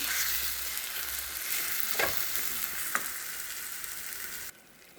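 A wood-apple barfi mixture is stirred steadily in a pan as it thickens, with a continuous bubbling sizzle and a couple of sharp scrapes from the spoon before the sound cuts off abruptly near the end.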